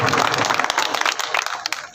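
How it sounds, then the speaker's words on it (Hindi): Audience clapping at a political gathering in India, a dense burst of applause close by that thins toward the end, with voices mixed in. "जोरदार ताली बजा, जोरदार।"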